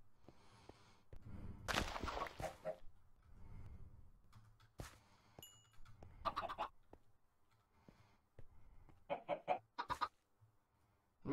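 Minecraft chickens giving short, scattered clucks and squawks, some in quick bursts and others single, fairly faint with quiet gaps between them.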